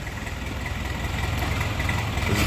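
A Jinma 404 four-wheel-drive 40-horsepower mini tractor engine idles steadily nearby, a low continuous rumble with a slight rattle that holds even throughout.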